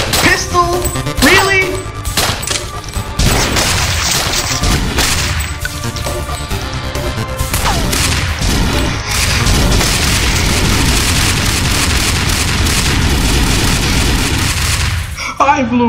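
Dense, loud bursts of booming and crashing from explosions in the flash game Thing Thing Arena, layered with gunfire-like hits and a music bed, continuous for the whole stretch and dropping away abruptly near the end.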